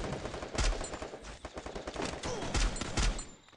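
Rapid gunfire in a shooter video game, with bursts of automatic shots and sharp single cracks spread across the span, fairly close and punchy, with no speech over it.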